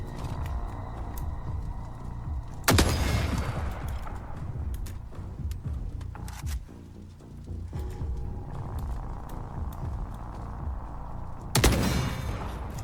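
Gunfire in the video game The Forever Winter, with two sharp, loud broadband bursts standing out against a steady, dense background of game noise and rumble, no talk over it.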